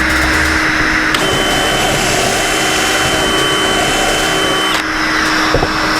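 A DeWalt 60V Flexvolt dust extractor pulling in fine dust runs with a loud, steady whooshing motor whine and a constant tonal hum, with slight shifts in pitch as the suction changes.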